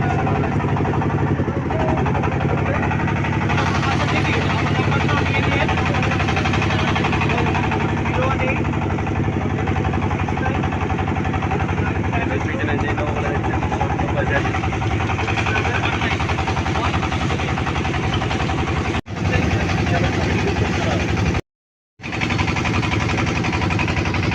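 A motorboat engine drones loudly and continuously, a steady vibrating rumble close by, heading to Sada Pathar, Bholaganj, Sylhet, Bangladesh, with voices talking over it and a brief dropout near the end.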